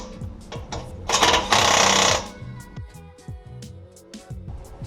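A Snap-on 7.2 volt battery-powered 3/8 inch impact wrench tightens lug nuts on a wheel with a loud, steady buzzing burst near the middle, surrounded by short clicks and knocks of tool handling.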